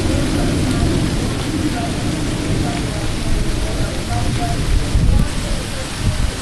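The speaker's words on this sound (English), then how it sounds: "There's lots of lightning with this storm right now." Steady heavy rain pours during a strong New Year's Eve thunderstorm in St. Louis, Missouri, with wind under a tornado warning. The roar is loud and continuous, with a faint low rumble and no clear talk.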